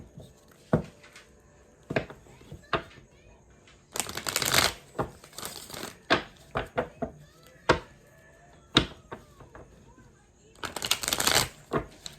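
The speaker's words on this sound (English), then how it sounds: "let's pull some more cards here for you" Oracle cards for a reading being shuffled and pulled, quick crisp riffling bursts and single flicks and slaps spaced irregularly, close and fairly soft.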